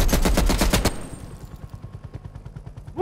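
Automatic gunfire in Call of Duty Black Ops Cold War, with a loud rapid burst of shots followed by a quieter fast rattling volley that runs on until a brief rise at the end.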